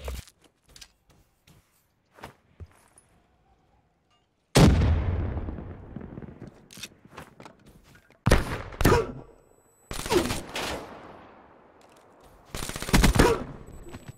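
Gunfire in a competitive 1v1 bomb-objective shooter game: sharp single shots early, then loud bursts of automatic fire with booming reports and decaying tails, separated by short gaps of quiet.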